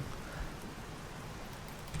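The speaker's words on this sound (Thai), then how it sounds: "ฝนตกนี้มองยากนะฮะ แล้วมาทำไมตอนฝนตกวะเนี่ย" Steady in-game rain in the survival game Scum, a soft even hiss of falling drops spread across the clip with no voices.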